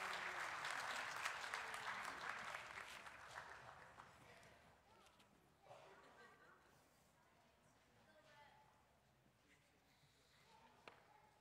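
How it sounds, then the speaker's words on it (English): Church congregation applauding as children leave the service for Kids Church, loud clapping that swells at first and then fades to scattered claps and shuffling, with faint talk beneath. "Let's give them a round of applause as they go out."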